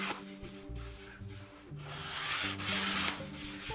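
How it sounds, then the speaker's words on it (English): Pre-glued wood veneer edge banding is sanded smooth against a board edge, the close, steady rubbing scratch continuing throughout with slight swells in strength and no talking. "Sand it smooth so it blends seamlessly with your board."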